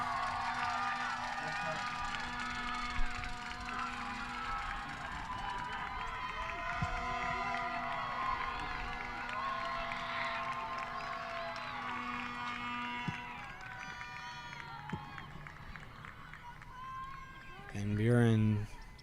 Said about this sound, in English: Searcy trying to hype up the crowd, and they're hyped up.